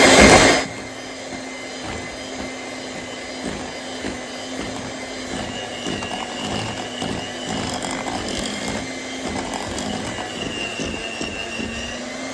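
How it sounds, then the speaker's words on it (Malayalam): An electric mixer at low speed beats sifted flour, baking soda, baking powder and salt for chocolate chip cookie dough, a steady whirring motor hum with a faint rhythmic mechanical rattle after a brief louder start. "നമുക്കിത് ലോ സ്പീഡിൽ ഇട്ടിട്ട് ഒന്ന് ബീറ്റ് ചെയ്യാം, മിക്സ് ചെയ്തെടുക്കാം."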